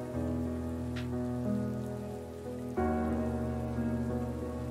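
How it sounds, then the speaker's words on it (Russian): Outdoor rain keeps up a continuous patter, nearly buried under sustained background music. No one speaks. "Бесконечный шум дождя на улице"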